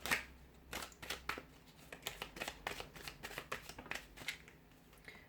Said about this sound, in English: we'll give the cards a shuffle